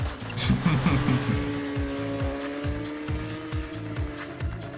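A Citroen Xsara rally car races in the WRC video game, its engine droning loud and close with a rhythmic series of rising gear-change pulses, plus tyre and gravel noise early on.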